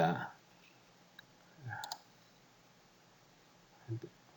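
A computer mouse clicks a few times, faint and sparse, while colors are being changed in Photoshop; a voice is briefly heard at the start.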